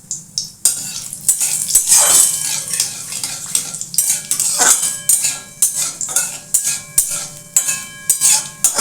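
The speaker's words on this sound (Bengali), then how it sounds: "একটু ভালো করে জিরেটাকে একটু নাড়াচাড়া করব।" Cumin seeds are stirred and fried in a pan, with a light sizzle under repeated rhythmic metal scrapes and clinks of a spoon against the pan, close and fairly loud.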